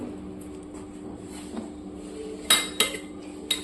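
Metal pot and utensils clinking and scraping while chicken curry is shifted into another vessel, a few sharp clanks in a quiet kitchen with low background hum.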